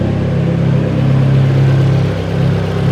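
Turbocharged Volkswagen Golf GTI MK3 with a straight-pipe exhaust, its engine revving close by with a loud, continuous mid-pitched roar that swells and eases slightly over a few seconds, without any voices.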